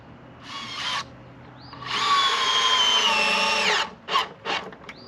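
Cordless drill driver sinking large screws into wood while building an outdoor table, with a short burst and then a longer loud whirring run that slows and stops, followed by two quick final bursts; no talking.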